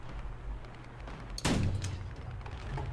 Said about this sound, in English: I'm shooting over there, and it's going nowhere near where I'm aiming it